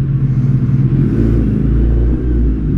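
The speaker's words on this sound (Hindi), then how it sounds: "एंड ये कर लिया अपन ने बाइक स्टार्ट।" A Suzuki Hayabusa motorcycle engine runs at a steady idle just after starting, a loud, close, continuous low rumble with no voices over it.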